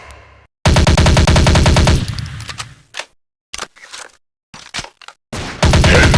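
Rapid shotgun gunfire in the Counter Terrorist Strike Android video game, loud dense bursts of shots followed by a few scattered single blasts and a final burst, with no talk.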